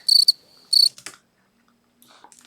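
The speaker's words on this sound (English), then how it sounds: "Yeah, crickets, there we go." Crickets chirp in two sharp, high-pitched bursts close by, followed by quieter scattered sounds and a low hum.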